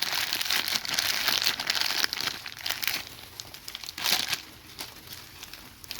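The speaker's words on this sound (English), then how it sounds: "all I'm doing is just taking the plastic bags and everything off of them" Plastic bags and wrapping are pulled off small nursery trees of the Eastern Leaf kind, giving continuous close crinkling and rustling with scattered louder crunching bursts and no talk.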